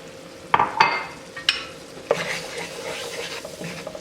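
Flour being stirred briskly into a roux for chicken mac and cheese, with a few sharp utensil knocks against the pan at the start, then a soft continuous sizzle and scraping.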